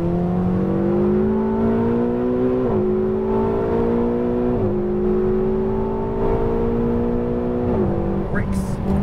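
A Ferrari 488 GTB on a race track pulls hard with a loud on-board engine drone that rises in pitch, drops briefly at each upshift and climbs again, with a voice talking over it.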